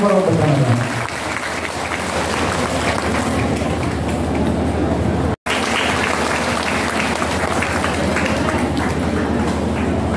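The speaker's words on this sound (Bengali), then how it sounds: "সবাই মিলে আরো জোরে করতালির মাধ্যমে" Loud, sustained applause from an audience at an award ceremony, dense clapping that fills the whole stretch with a brief gap midway.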